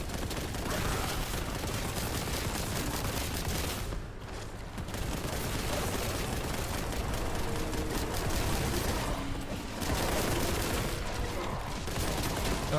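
Heavy weapon fire in the Warhammer shooter Boltgun, with a grav cannon unleashing a straight laser beam: a dense, continuous barrage of loud blasts and mechanical roar running almost unbroken, with brief dips around a few moments.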